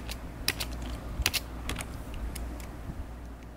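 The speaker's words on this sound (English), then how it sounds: "What if I just type in Tetris?" Someone types a search into a computer keyboard, a quiet run of uneven key clicks with a few quick double taps and no talking.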